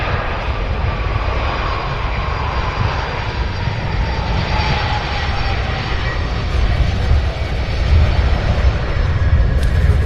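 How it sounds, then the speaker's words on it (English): UPS cargo flight 2013, arriving from Boston, landing at Louisville's SDF airport: a loud, sustained engine roar with rumbling low end that swells slightly toward the end, heard from the ground without speech. "As we have UPS 2013 landing now."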